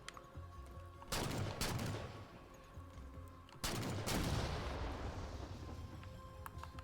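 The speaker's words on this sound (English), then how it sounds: "That explosion just sucked." Explosions and gunfire from the Halo 4 video game: two heavy blasts, each followed by a long rumbling burst of crackling shots and debris, with quieter game sounds in between.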